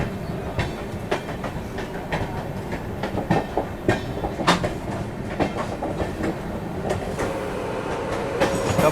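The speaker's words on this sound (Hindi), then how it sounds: "उज्जैनी एक्सप्रेस ने डिपार्चर लिया है गाजियाबाद से" Ujjaini Express train pulling away from Ghaziabad station, steady clickety-clack of wheels over rail joints with a rumbling carriage noise, heard from on board, growing slightly louder.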